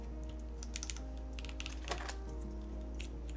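Fingers typing on a Shelby65 prototype mechanical keyboard, a quick irregular patter of light clacky keystrokes, close but soft, over a steady low hum.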